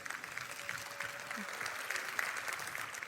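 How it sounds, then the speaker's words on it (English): Audience applause at an events industry partner summit, steady crowd clapping throughout with a voice faintly audible beneath. "And a round of applause for all of you."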